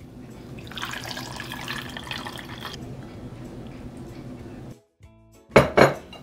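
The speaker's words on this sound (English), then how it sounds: "Now I'm gonna pour in my tea." Tea is poured into a glass packed with ice cubes, first as a bright trickling splash, then a pause and a couple of sharp clinks of ice or glass near the end, close and fairly quiet.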